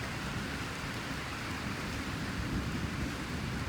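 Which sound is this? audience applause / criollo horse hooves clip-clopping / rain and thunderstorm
rain and thunderstorm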